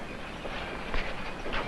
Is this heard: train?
yes